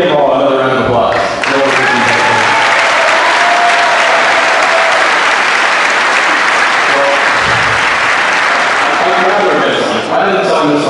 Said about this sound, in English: So, why don't we give them all another round of applause?